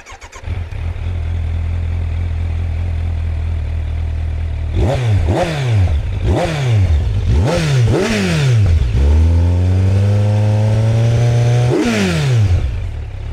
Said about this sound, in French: c'est d'abord de te faire écouter le son, parce que c'est un 4 cylindres